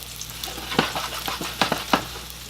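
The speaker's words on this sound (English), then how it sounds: "So, my olive oil is hot. We're going to add the mushrooms." Mushrooms sauté in hot olive oil, crackling with steady sizzle while a utensil stirs them in several quick scraping bursts, close and fairly soft.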